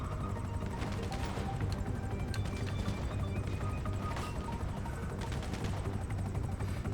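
Helicopter in the video game GTA V Online during a heist, a continuous loud rotor thrum with steady chopping pulses, mixed with scattered gunfire-like clicks and game noise.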